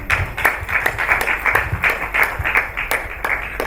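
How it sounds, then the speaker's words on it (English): Audience applause at the Earth Women premiere and CAHR awards ceremony in 2021, a fairly loud patter of many hands with a few sharp, evenly spaced claps standing out. "Another round of applause for her."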